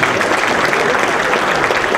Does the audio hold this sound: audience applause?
yes